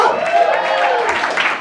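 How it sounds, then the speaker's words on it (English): A comedy club audience claps and cheers for a stand-up comedian, a dense burst of applause that stays steady for a moment while a performer's voice talks over it. "Round of applause for Ian Abramson"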